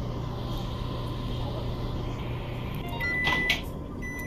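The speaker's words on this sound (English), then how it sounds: "Put it in the microwave." A microwave oven runs in the VR game Job Simulator, giving a steady low hum. Near the end, a brief bright tonal beep rises above it.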